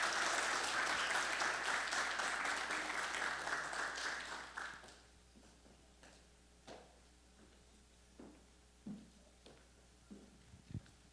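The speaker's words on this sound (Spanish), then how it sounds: "Un aplauso, por favor, para el doctor Jorge Amaya." Audience applause for a lecturer giving a historical talk on university extension in Honduras, loud and dense for about five seconds, then fading into a quiet room with scattered knocks and small handling sounds.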